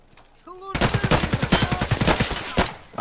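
Automatic weapon fire in Escape from Tarkov, a loud, close burst of rapid evenly spaced shots rattling for about two seconds, preceded by a brief electronic tone and ending with a final louder shot.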